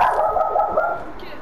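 A dog barks and yips in a short, close burst during a game, with several rapid bark pulses and voices talking over it.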